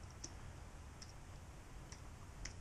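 Sparse, faint clicks of keys being typed on a computer keyboard, four or five isolated taps over a quiet background hum.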